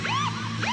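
An ambulance siren wails in rising and falling sweeps, loud and near, one full cycle and the start of another over a steady low hum.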